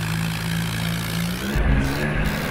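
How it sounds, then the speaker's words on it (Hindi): A Swaraj tractor engine drones at a steady low pitch, then its note drops and it gives a couple of heavier, rougher revs, loud and close. "तो अब आएगा सौराज का ट्रैक्टर"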